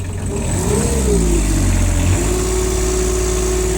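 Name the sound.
excavator engine revving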